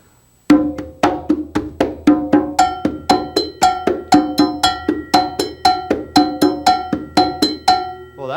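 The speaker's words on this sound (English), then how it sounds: "Let's play conga with one hand and play cowbell with the other one." Conga and cowbell played together by one player, one hand on each, in a steady repeating pattern of sharp, ringing metallic cowbell strikes over conga tones, close and alone without speech.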